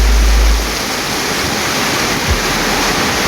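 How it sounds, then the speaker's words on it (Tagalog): A loud, constant roar of heavy typhoon rain and wind in Negros, Philippines fills the air, steady and dense with no pauses, opening with a low rumbling gust. "Ang lakas ng ulan dito at saka hangin, lakas ng hangin."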